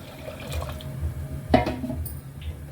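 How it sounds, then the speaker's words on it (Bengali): Water poured into a pressure cooker while cooking sambhar, a brief splashing pour with a few drips in a quiet kitchen. "জল দিয়ে দেবো।"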